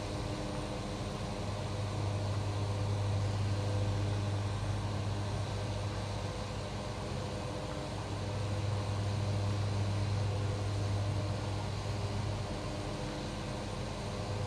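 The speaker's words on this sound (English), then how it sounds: "I'm pushing these engines a little harder now." Airplane engines in Microsoft Flight Simulator 2024, pushed a little harder, give a steady, loud droning hum with a low tonal throb that rises and falls slightly, with no talking.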